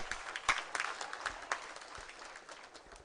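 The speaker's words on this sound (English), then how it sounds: "Please receive him with a hand clap." An audience at a Kampala International University graduation claps, a moderate stretch of scattered hand claps heard at a distance that stays fairly even for about three seconds.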